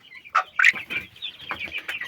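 Chicks and chickens cluck and peep close by, a few sharp calls followed by a busy, chattering stream of softer clucks.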